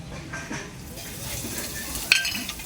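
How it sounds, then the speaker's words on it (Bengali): Whole garam masala and a pinch of asafoetida hit hot oil, giving a soft steady sizzle with a few light stirring scrapes and a sharp clink near the end. "গোটা গরম মশলা ফোড়নে দিয়ে দিচ্ছি সামান্য একটু হিং দিচ্ছি"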